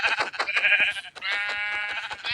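Sheep bleating in the Minecraft video game, a run of wavering, nasal game bleats that repeat close and loud with barely a pause between calls.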